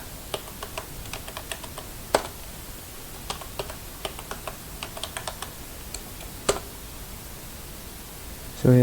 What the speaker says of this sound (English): So again we have to type a password